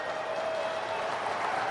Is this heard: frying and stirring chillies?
no